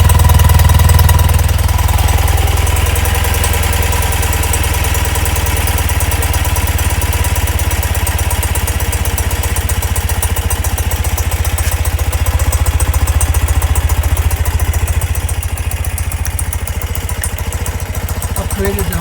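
A restored 1971 BMW R60/5 motorcycle engine idles steadily at half to three-quarter choke, a loud, even mechanical thrum with fine clatter that runs unbroken and close for the whole stretch.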